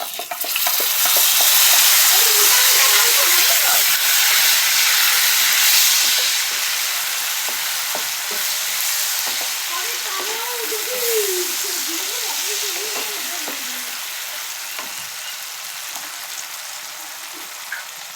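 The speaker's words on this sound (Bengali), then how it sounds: "এরপর আমি দিয়ে দেবো বাটা মশলা" Loud, hissing sizzle of ginger, garlic, onion, tomato and green chilli paste frying in a hot pan, gradually settling, with occasional stirring scrapes and a voice murmuring faintly in the background.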